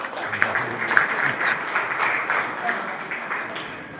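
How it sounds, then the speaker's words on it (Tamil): An audience at a Tamil spiritual discourse applauds continuously, a dense, even wash of many hands clapping that holds steady and fades slightly at the end. "நல்லா கைத்தட்டலாம்."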